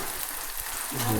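Onion and peas sauté in a pan with a steady soft sizzle that brightens slightly toward the end of the short stretch.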